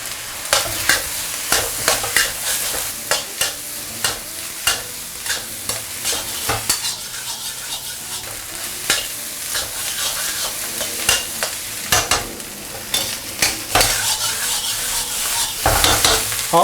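Food is stir-fried in a hot wok, with loud sizzling throughout and frequent sharp scrapes and clanks of a spatula tossing the ingredients in an irregular rhythm.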